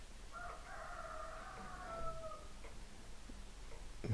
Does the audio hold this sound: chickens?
yes